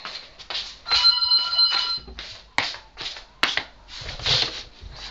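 A home telephone rings with a single bright electronic burst, mixed in with sharp clattering, tapping and rustling household noises before and after it.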